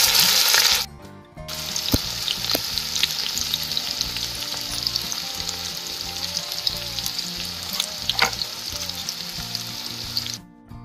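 Cumin seeds and whole chillies crackle and sizzle steadily in hot oil for tempering saag, a loud continuous frying hiss with occasional sharp pops and clinks, no voices.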